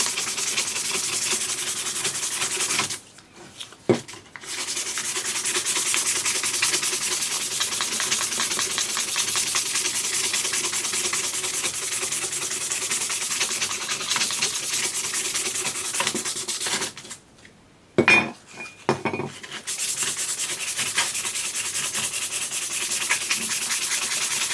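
Continuous abrasive rubbing as a galvanized coating is brushed off a metal cosplay buckle to leave a brushed finish, a loud sustained scratchy hiss broken by two brief pauses.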